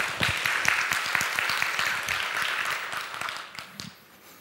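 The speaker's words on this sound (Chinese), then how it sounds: "请大家以一个热烈的掌声欢迎他的简报。" Conference attendees at HITCON CMT 2019 give a speaker a welcoming round of hand clapping, brisk and sustained at first, then thinning and fading out near the end.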